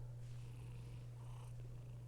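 A ginger cat purrs close by in a steady, low, continuous rumble that stays even and quiet throughout, with no voices.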